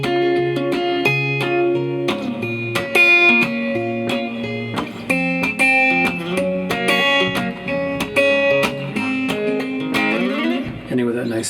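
A strummed guitar playing the intro and verse rhythm of a song, chords with percussive slap accents and a slide up near the end, close and clear with no talking.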